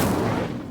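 A fiery Incendio spell cast in Hogwarts Legacy bursts out as a short, loud, noisy blast with a roaring low rumble, alone and dense throughout its brief length.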